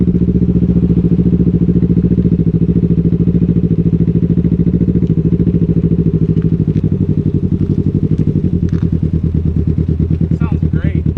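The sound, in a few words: Can-Am Ryker with new RLS performance exhaust running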